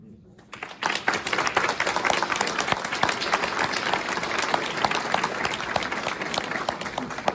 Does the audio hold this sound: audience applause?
yes